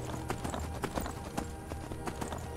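A horse's hooves clip-clop over mountain ground in the video game Skyrim, quick irregular hoofbeats close and clear with a steady low game background.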